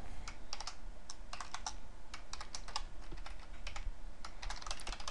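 Code being typed on a computer keyboard, steady clusters of quick close keystrokes with short pauses, continuous and fairly loud with no talking.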